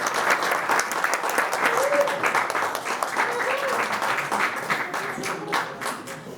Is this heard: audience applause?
yes